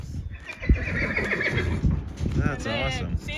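A horse, a young barrel-racing prospect, gives a loud, wavering whinny near the end, with hoof clops and people talking throughout.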